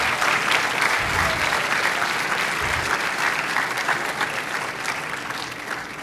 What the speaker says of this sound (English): A round of applause for Paul Fernandez.